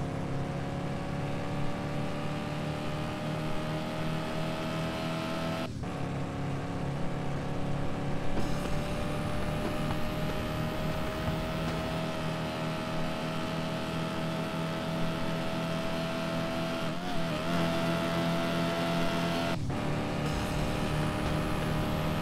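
A Dodge Viper sports car engine drones steadily while accelerating, its pitch climbing and then abruptly dropping at several gear changes, a continuous mid-level roar with no talk.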